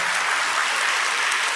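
A worshipping congregation claps hard in unison, a thick, loud and unbroken roar of many palms filling the room at close range, with no voices over it.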